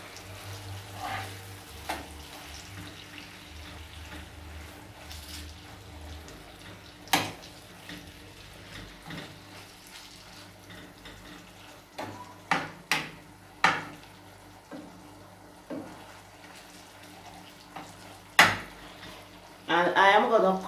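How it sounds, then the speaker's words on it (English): Jamaican salt mackerel and susumber (gully beans) stirred in a pot, a spoon clinking and scraping against the metal in scattered knocks over a quiet simmer. A heavier clatter comes near the end. "So I am gonna go in and give it a good little stir."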